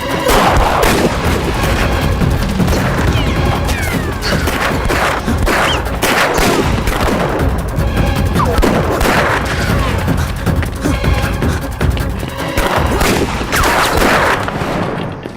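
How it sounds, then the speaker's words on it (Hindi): Dense, loud gunfire from a movie shootout, with continuous rapid bursts and booming shots running for about fifteen seconds without a break. "गोली चलाओ।"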